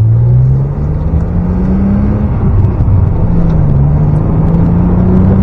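A six-cylinder Rover 75 engine runs steadily, its low note rising gradually as it revs while driving, with constant road rumble and no talking.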